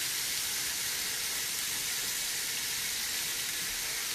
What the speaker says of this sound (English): And now that's sizzling up, and that's ready for the rest of my veggies.